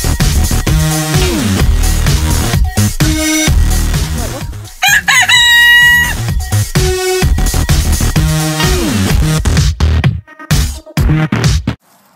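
Rooster on a small backyard chicken farm crowing loudly and close by, several strained calls with clucking hens mixed in, and brief voices in the background.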